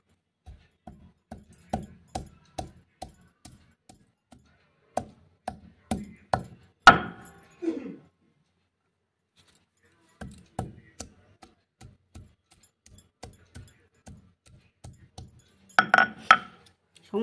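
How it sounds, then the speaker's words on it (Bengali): Whole spices and ginger for a Bengali shukto being crushed together on a grinding stone, heard as a steady series of sharp knocking and scraping strokes in close bursts with short pauses, some quiet voice nearby. "সমস্ত মশলা একবারে বেটে নেওয়া হচ্ছে আর কি।"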